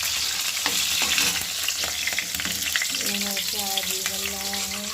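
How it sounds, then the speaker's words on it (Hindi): Potatoes and onions fry in hot refined oil with cumin, a steady loud sizzle and crackle running the whole time, with a few stirring scrapes and clinks in the pan. "तो यहाँ पे तेल गरम हो चुका है, इसमें जीरा थोड़ा सा डालेंगे।"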